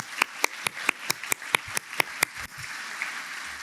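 Rhythmic hand clapping at an awards ceremony for a business hall of fame induction, about ten evenly spaced claps from a small group over roughly two and a half seconds, then fading into room tone.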